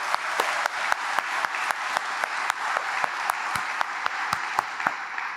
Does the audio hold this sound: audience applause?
yes